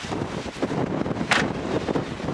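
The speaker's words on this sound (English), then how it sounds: "It's kind of windy." Wind gusts buffeting the microphone on a snowy mountain at Beech Mountain, North Carolina, with a loud, rumbling roar, uneven and constant throughout, with a brief sharper whoosh partway.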